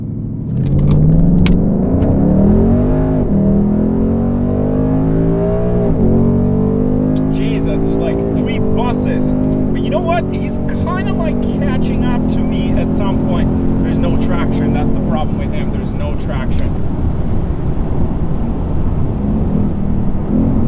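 Two cars drag racing, a tuned VW Jetta GLI against a Ford Mustang GT, with loud engine roar rising through the gears in steady pulls, sustained and close throughout, with a voice talking over it.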